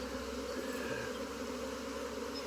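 Dense, steady buzzing of many honeybees around a swarmed beehive, a continuous close hum filling the whole moment without talk.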